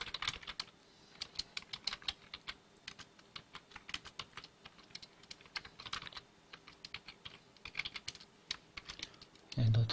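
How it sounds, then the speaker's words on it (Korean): Computer keyboard typing, a steady run of quick light key clicks at close range, spread across the whole stretch with brief pauses, ending in a short louder low thump. "여러분 열심히 타이핑 해주시면 되겠죠."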